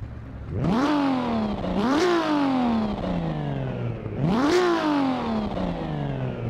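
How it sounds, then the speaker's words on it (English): Lamborghini Miura P400SV engine in the Assetto Corsa racing game, revving hard three times with rising and falling pitch, close and loud, with faint popping backfire between revs. "I guess I'm hearing a little bit of backfire there"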